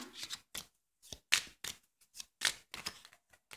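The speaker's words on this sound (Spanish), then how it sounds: "Vamos a barajar las cartas para limpiarlas, para conectar contigo." A deck of Spanish gypsy fortune-telling cards is shuffled by hand in a run of quiet, crisp bursts of riffling and sliding, separated by short pauses, with no speech.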